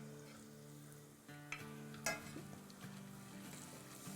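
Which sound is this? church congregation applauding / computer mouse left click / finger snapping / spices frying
spices frying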